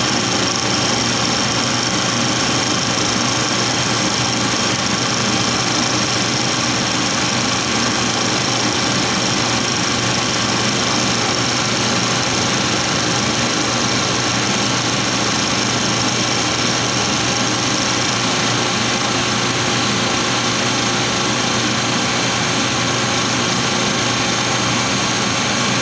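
A milling machine runs a 6 millimeter cut during a DRO installation, a steady broadband motor hum and cutting noise holding constant and fairly loud for the whole stretch with no talk.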